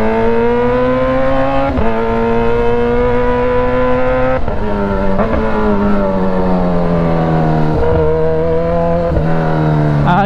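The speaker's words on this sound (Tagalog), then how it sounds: "Ayaw bumuga ng motor eh, no? Naka-rain mode kasi." A Kawasaki Z H2 motorcycle in rain mode accelerates up Kennon Road toward Baguio, its loud engine whine climbing through several gear changes, each marked by a brief dip before the pitch rises again.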